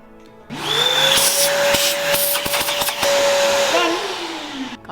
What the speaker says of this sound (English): It's important that we vacuum up these metal bits because if we leave them, they can cause rust.